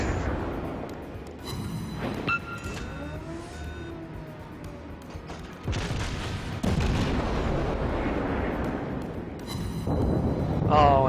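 Heavy naval gunfire booms repeatedly in a World of Warships battle as a US light cruiser Erie engages a battleship, with loud blasts, rumbling impacts and game effects layered together.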